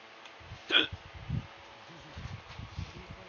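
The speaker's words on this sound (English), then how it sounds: "I hiccuped right after that" A single sharp hiccup bursts out near the start, brief and fairly close, followed by quieter low murmuring and faint rustling in a small room.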